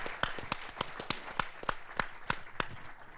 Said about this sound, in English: I'd love to give a big round of applause to Mr. Brent Leary.